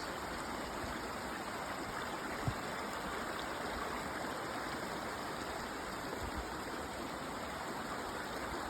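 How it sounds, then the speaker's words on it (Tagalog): Steady rushing of a clear forest stream flows continuously, a broad even babble with no voices, consistent throughout. "Makikinig ka lang sa agos ng tubig."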